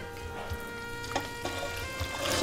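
Water poured over chicken and vegetables in a cooking pot for Azerbaijani chicken buglama, a soft steady trickle and splash running low for a couple of seconds, with a few light clinks and a slightly fuller burst at the end.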